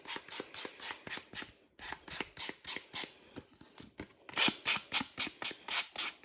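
A coarse file scrapes repeatedly across cardstock edges in quick, rhythmic rasping strokes, close but fairly quiet, with a brief pause partway through and no talking.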